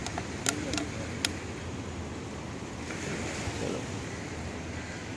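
Waves on Chimbai beach at Bandra Bandstand make a steady roar of surf with gusty wind noise, with a few sharp clicks early on and a voice faintly present.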